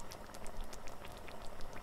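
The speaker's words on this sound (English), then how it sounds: "Bring to a boil, stirring constantly." Sauce with broth bubbles at a steady boil while being stirred, a dense continuous crackle of popping bubbles heard up close with no talking.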